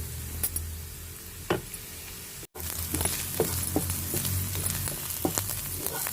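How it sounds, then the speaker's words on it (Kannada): Onions sautéing in a pan for a cauliflower keto soup, a steady soft sizzle with occasional ticks and clinks of stirring, fairly quiet and close, with no voices. "ನೋಡಿ, ಈರುಳ್ಳಿ ಮಗಿಸ್ಕೊಳ್ತಾ ಇದ್ದೀನಿ"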